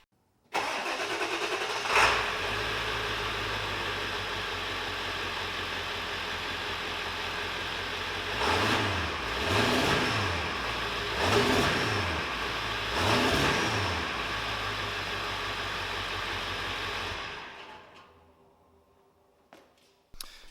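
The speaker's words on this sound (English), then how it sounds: "start the van up just so you can kind of hear it in stock form" A stock diesel van starts up and idles, and the engine is revved in three or four short bursts. It is close and loud, then cuts off near the end.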